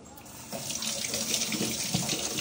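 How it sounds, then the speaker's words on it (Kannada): Tap water runs steadily into a sink while a mango is washed under it, a close, continuous splashing stream that grows slightly fuller partway through, with no voices. "ಫಸ್ಟು ಮಾವಿನಣ್ಣ ತೊಳ್ಕೊಬೇಕು."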